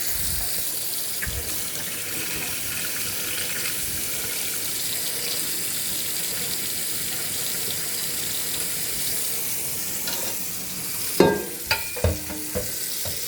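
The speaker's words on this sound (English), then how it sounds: "we'll go ahead and take this pan and fill it full of water. Gonna make sure we use cold water." Cold tap water runs steadily into a cooking pan on a kitchen stove, a continuous broadband rush filling the scene, ending with a few sharp clanks near the end.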